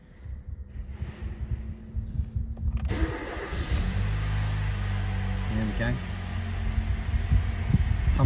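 A 1998 Mercedes A140 A-Class is cranked and fires up partway through, then settles into a steady, smooth idle hum close by, with a brief spoken remark from a man near the start.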